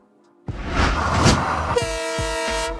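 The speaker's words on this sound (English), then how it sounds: "Double-decker train." A double-decker passenger train approaches with a swelling roar, then sounds a loud, sustained horn blast that holds steadily to the end.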